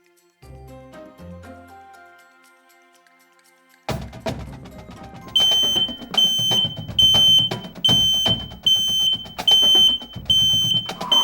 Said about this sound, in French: Si alarme sonne, appelle le 112.